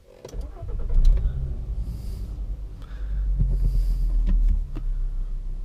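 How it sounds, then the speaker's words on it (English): A Volkswagen MK6 with a new cold air intake cranks and starts, its engine catching into a deep, throbbing idle that swells louder partway through, close and alone with no talk. "So I always just let the car go through its beeps, prime the fuel pump, and here we go."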